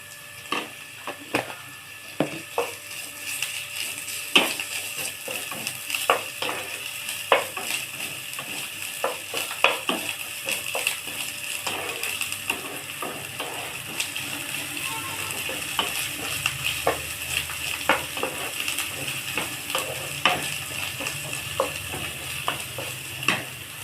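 Ginger and garlic frying in a pan with prawns, giving a steady close sizzle with repeated scrapes and taps of a spatula throughout.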